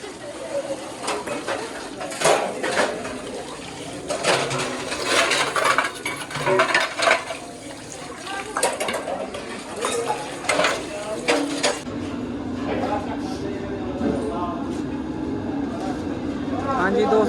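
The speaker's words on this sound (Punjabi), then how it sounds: "ਸੋ ਇੱਥੇ ਆਪਣੀ ਭਾਂਡਾ ਦੀ ਸੇਵਾ ਚੱਲਦੀ ਆ ਜੀ" Steel dishes clatter and clink as they are washed during langar service at a gurdwara. The busy, continuous metallic rattling sits close by under people talking throughout.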